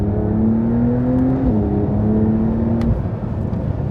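A Porsche 911 Dakar engine accelerates under load, heard from inside as a loud, steady droning whir with a rising tone that shifts partway through, over constant road rumble.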